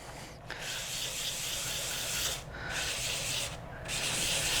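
600 grit paper rubbed over the gasket face of a diff case for an HB Racing E819RS 1/8 scale buggy: loud, close, gritty back-and-forth sanding in long strokes broken by two brief pauses, without speech.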